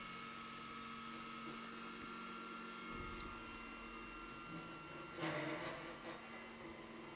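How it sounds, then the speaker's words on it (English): A vacuum cleaner runs faintly in another room behind closed doors, a steady soft whine and hum that swells slightly near the end, with no voices. "the mic is picking up the vacuum cleaner, but it is here again"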